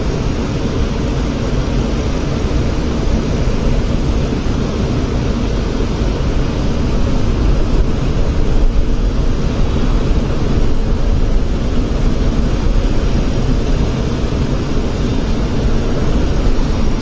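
A heavy jet aircraft departing Heathrow is heard over Kensington in London as a constant, broad, distant roar that holds steady throughout, with no voices.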